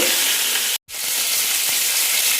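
A fish head frying in hot oil for lemon fish curry sizzles loudly and steadily, with a short silent break early on and faint stirring knocks under the continuous hiss.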